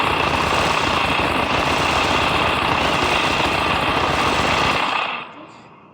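Minigun firing in the video game Melon Playground, a loud, continuous rapid-fire rattle that roars steadily for several seconds before cutting out abruptly.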